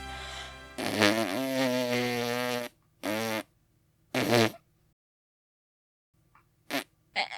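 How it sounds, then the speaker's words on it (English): Lips pressed into an M shape buzz as a beginner practises trumpet, giving a long raspy buzz followed by two shorter bursts and a few faint brief sputters, close and alone. "First we formed our lips in an M shape and then tried buzzing."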